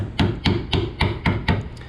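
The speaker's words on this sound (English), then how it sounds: "I'm using a brass punch and then just a little plastic hammer" Six evenly spaced, sharp taps of a small plastic hammer striking a brass punch while installing a windshield on a 1966 Ford Mustang Fastback, each a crisp knock with a short ring, close by and steady.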